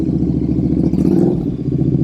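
A custom Royal Enfield INT650 twin idles and revs up close, with a steady throbbing low engine note that swells briefly midway before settling again.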